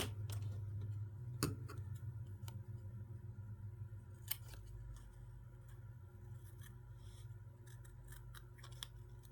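Scissors snip through paper while a paper piece is cut out, a quiet series of sharp clicks and cuts over a steady low hum, with no talking.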